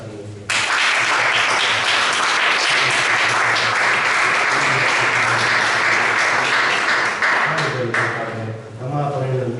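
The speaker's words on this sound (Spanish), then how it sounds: "démosle un aplauso a la primicia." A church congregation bursts into loud, sustained applause after a short pause, holding strong clapping for several seconds before it tapers off and voices begin to come through.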